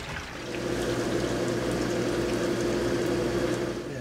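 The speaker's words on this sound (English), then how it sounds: "Now for a back flush." Water rushing steadily through a Koi pond bead filter during a back flush, a loud continuous churning flow that swells in after the first half second and holds without talk.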